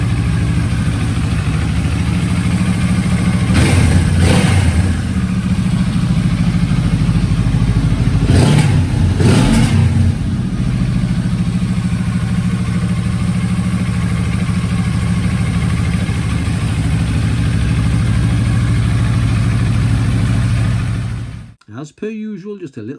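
Benelli TRK 702X motorcycle engine running steadily close by, idling with a couple of short revs early on before it cuts off near the end; no talk over it.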